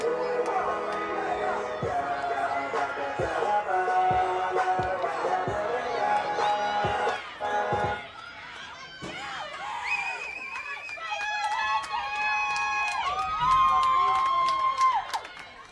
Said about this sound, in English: So the Franklin faithful cheering on Lindsay Atkinson for tying the game up here.